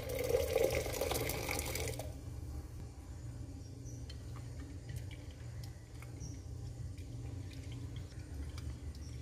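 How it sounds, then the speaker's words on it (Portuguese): Hot water poured from a short height into a bowl to dissolve two packets of pineapple gelatin, a loud splashing stream for about two seconds, then fading into quiet dripping and faint kitchen ticks. "vou começar dissolvendo dois pacotinhos de gelatina sabor abacaxi em 400 ml de água bem quente"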